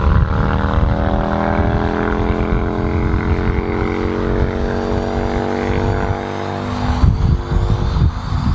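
A UAV's propeller drones loudly and steadily during an autonomous landing, with shifting engine tones and a brief dip near the end.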